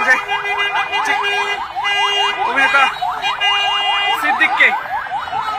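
A loud ambulance siren wails in rapid, repeating up-and-down sweeps close by on a Bangladeshi street, with faint crowd noise beneath and no clear speech.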